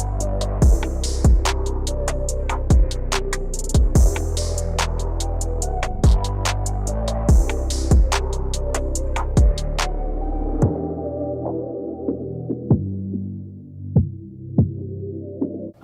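Electric hair clippers fitted with a 1.5 guard, lever fully closed, buzz steadily while cutting hair, with repeated sharp clicks and pulses over the hum before the motor drops off and a few soft knocks follow.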